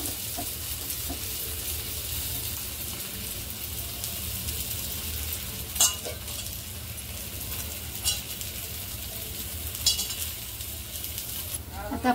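Oil sizzles steadily around thalipeeth frying in a pan, a constant broadband hiss with a few soft clinks of a utensil near the end.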